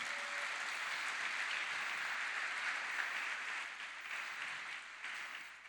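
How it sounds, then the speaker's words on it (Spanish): A church congregation applauds the Lord in sustained, dense clapping that stays fairly even and slowly tapers, heard from a moderate distance with no voices on top. "Denle un fuerte aplauso al Señor."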